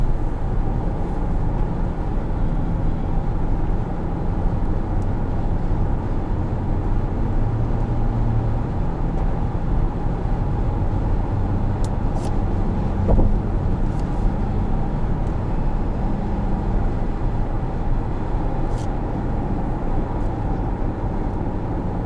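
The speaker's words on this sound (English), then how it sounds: "As you can hear, it uses a CVT transmission for the gas motor." A 2018 Toyota Highlander Hybrid Limited Platinum's gas engine, paired with a CVT transmission, gives a steady, even drone heard from inside the cabin, continuous with no talking.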